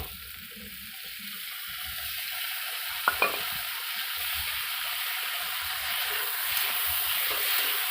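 Vegetables fry in a pan as a spice paste is stirred in for an egg and potato curry, giving a loud, steady hissing sizzle with a couple of quick spatula clicks midway.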